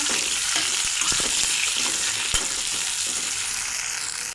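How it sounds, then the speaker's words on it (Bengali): Steamed potatoes fry in a pan with turmeric powder and salt, giving a continuous close sizzle broken by a few stirring scrapes and clinks, with no voices. "একটু হলুদ গুঁড়ো, একটু লবণ, আলুগুলো ভেজে নেব।"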